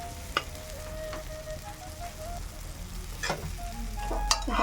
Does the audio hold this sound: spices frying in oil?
yes